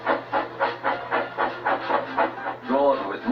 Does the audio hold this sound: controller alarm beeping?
no